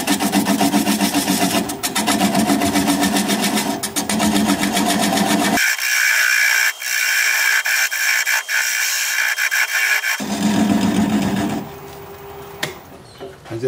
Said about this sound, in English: Turning at 450 RPM with a 3/8 inch bowl gouge, I'll begin to removing the tenon.